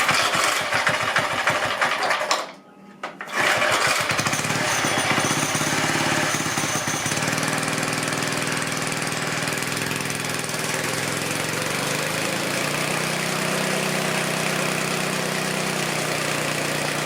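A small engine on a restored vintage mini bike runs loud and close with a continuous buzzing drone. It cuts out briefly for a moment early on, then picks back up and keeps running steadily to the end.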